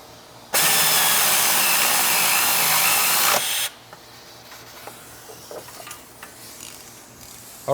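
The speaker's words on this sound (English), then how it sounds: "Now we're going to go ahead and tighten this front knuckle bolt." A power tool tightens the front knuckle bolt on a car's suspension in one loud continuous burst of about three seconds, followed by quiet clinks and handling noises.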